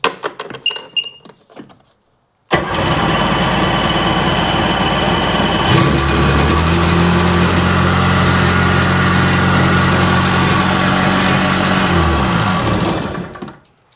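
A 1997 Sea-Doo GTI personal watercraft engine cranks over and fires, then settles into a loud, steady idle close by for several seconds before cutting off, preceded by faint handling noises.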